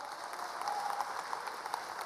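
Faint, distant congregational applause at a church seminar, a soft continuous patter of clapping with a few sharper claps standing out.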